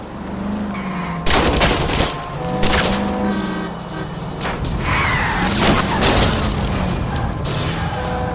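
Shots fired at a fleeing car's tires during a 1940s Los Angeles chase in L.A. Noire, several loud cracks and booms over a steady car engine and tire noise, with a few separate impacts spread across the stretch.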